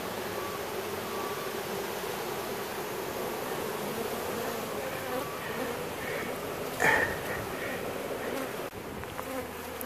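Honeybees buzzing steadily in a thick continuous drone during a hive removal under a mobile home in Auburndale, Florida, with a brief louder swell near the end and no talk.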